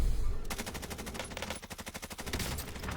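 Rapid automatic gunfire from the Call of Duty Warzone video game, a fast, evenly spaced burst of sharp shots lasting a few seconds at moderate loudness.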